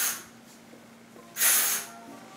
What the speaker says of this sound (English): I'm just gonna flip my hair over and just shake it and spray it.